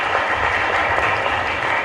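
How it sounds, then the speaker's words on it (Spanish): Congregation applauding during Mass in the Santa Librada chapel in Ñemby, a continuous, fairly loud rush of clapping that lasts the whole moment. "un fuerte aplauso para él"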